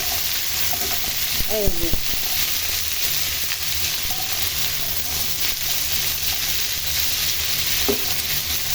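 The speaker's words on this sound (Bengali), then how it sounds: "এখন আমি এই পেঁয়াজের ভিতর তরকারিগুলো দিয়ে দিব ভাজি করা" Chopped vegetables frying with onions in a pan, a steady loud sizzle that runs the whole time, with occasional utensil scrapes and a brief spoken word over it.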